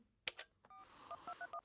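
Telephone keypad dialing: a couple of soft clicks, then a short series of distinct beeping tones in quick succession, fairly quiet and with no voices.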